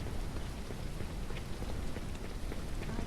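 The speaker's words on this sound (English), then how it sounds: "And it's raining." Steady rain pours down in the medieval village of Noble Legacy Kingdom, a dense, even hiss of drops with no pauses, close and fairly loud throughout.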